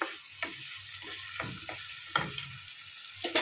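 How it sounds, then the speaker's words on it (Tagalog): Sliced dried tomatoes go into a pan already sizzling with olives and bacon for spaghetti alla puttanesca, giving a steady frying hiss broken by a few sharper spits and pops. "Ihulog na natin yung sliced dried tomatoes."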